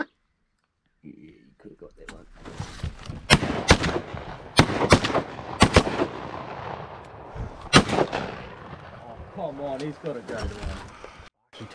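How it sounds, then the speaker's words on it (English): Shotgun shots ring out during a New Zealand duck hunt, a series of sharp loud blasts spaced a second or so apart, some close and some further off, with people talking excitedly between them. "He took some shots."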